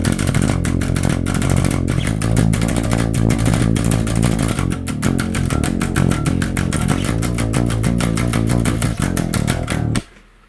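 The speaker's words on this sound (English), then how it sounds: "that'll be the chorus on the rhythm guitar" Rhythm guitar plays the chorus of a song, a loud, heavily distorted chugging riff with steady palm-muted strumming, continuous and up close until it cuts off abruptly near the end.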